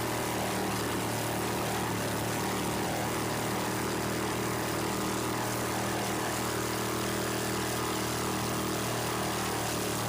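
A helicopter hovering over an offshore powerboat race, a continuous loud droning engine and rotor hum with steady tonal bands, unbroken and close throughout with no voices.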